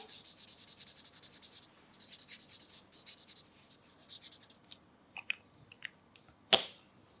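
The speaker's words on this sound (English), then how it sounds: "Let me just add a little bit more colour onto the page with some of the darker ones" Dark pens and markers scratch across paper while colouring a mixed media art page, in quick rhythmic strokes grouped into short bursts, close and fairly loud, ending with a sharper tap.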